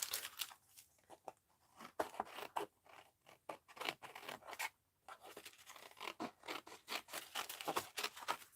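Scissors trimming paper pieces for a mixed-media art journal, with quick repeated snips and papery rustles and scrapes at close range, fairly quiet, with a short pause partway through.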